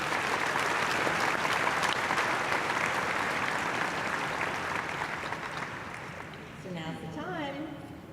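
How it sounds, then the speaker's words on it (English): A commencement audience at a university graduation breaks into sustained applause for student speakers, a dense wash of many hands clapping that slowly fades before a voice begins speaking near the end. "So let's give these student speakers one more round of applause."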